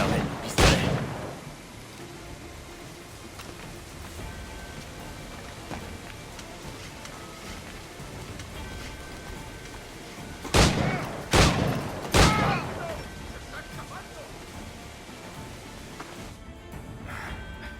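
Pistol shots in the Assassin's Creed video game: one sharp loud report at the start, then a quick burst of three close shots later, over a low steady game ambience.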